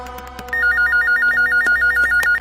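A telephone rings with a rapid warbling electronic trill, loud and close, repeating steadily for about two seconds with no one speaking.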